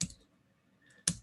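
Keystrokes on a computer keyboard while entering code in R, two quick clusters of clicks close by with a brief quiet gap between them.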